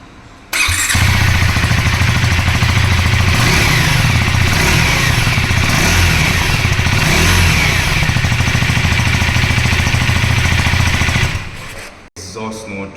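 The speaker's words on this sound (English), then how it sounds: "let's go on and listen to the exhaust note" A 2024 KTM Duke 390 motorcycle engine fires up and revs hard for about ten seconds, a loud, raspy exhaust note up close, then cuts off abruptly.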